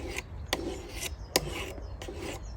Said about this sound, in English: showed us how to clean the tools with a sharpener